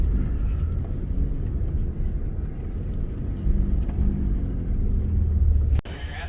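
Stock Ford F-150 on stock suspension with a leveling kit creeping slowly off-road, a steady low engine and tire rumble with a brief thump near the end.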